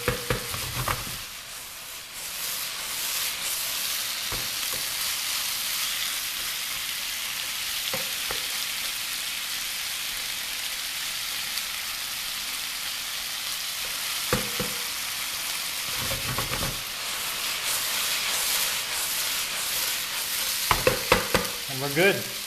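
Chicken stir fry sauce sizzling and reducing in a pan, a continuous loud hiss broken by a few brief stirring scrapes.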